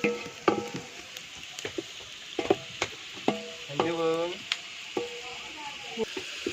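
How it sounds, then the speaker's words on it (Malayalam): Onions sautéing in a pan for a Vishu festive meal give a soft, steady sizzle. Scattered utensil clinks and stirring scrapes sit over it, and faint voices come and go in the background. "അമ്മമ്മ ഉള്ളി വാട്ടുകയാണ്"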